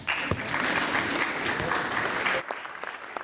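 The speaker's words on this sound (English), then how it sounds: "Is that clapping for me or for him?" A conference audience at a business technology event claps steadily for about two and a half seconds, then the applause cuts off sharply, leaving a few scattered claps and quiet room noise.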